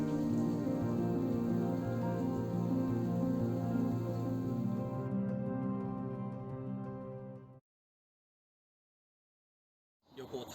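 Steady rain falls outside a Japanese hot spring onsen, a dense, continuous hiss of drops heard close and alone for several seconds before cutting to silence, then returning briefly.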